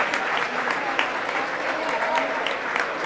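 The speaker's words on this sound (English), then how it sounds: "The Roy DeGraff Gymnasium applauds" A gymnasium crowd at a high school basketball game applauds an injured player in a dense, sustained wash of clapping, with voices mixed in throughout.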